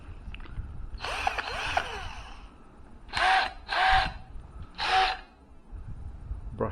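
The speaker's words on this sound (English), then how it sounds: "And this is a hammer drill too. It's 18 volt," Stanley SBH201 18-volt brushless hammer drill, heard in a short whirring burst followed by three quick spin-ups and stops, close and loud with no talking.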